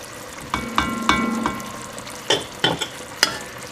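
Orange juice and zest are added to a sweet-sour gastrique sauce for pan-roasted duckling with orange, giving a close sizzle broken by several distinct splashes and stirring knocks in two groups of hits.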